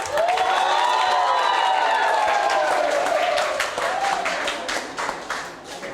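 A crowd of hotel management college students claps and cheers, with bright shouts and whistles rising over steady applause that fades slightly toward the end.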